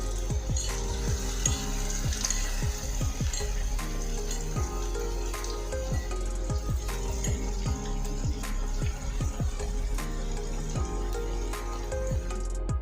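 Small manchurian balls deep-fry in well-heated oil over a medium gas flame, producing a continuous bubbling sizzle with frequent soft clinks and stirring sounds, steady and close.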